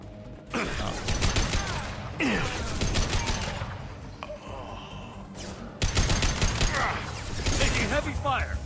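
Heavy gunfire in the video game Mass Effect 2, with dense bursts of shooting that rise and fall over about nine seconds. Voices speak over the firefight.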